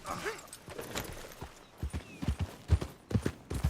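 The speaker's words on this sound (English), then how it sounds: "I'll take his horse. He won't be needing it no more. Let's go for a ride." Hooves clip-clop while riding a horse in Red Dead Redemption 2, irregular thuds growing stronger toward the end against a faint background.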